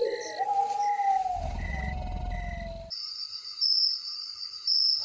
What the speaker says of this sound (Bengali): শুধু ঝিঝি পোকার ডাক আর কুকুরের হালকা ঘেউ ঘেউ শোনা যাচ্ছে।